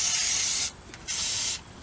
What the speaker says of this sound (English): I can actually spray right down in here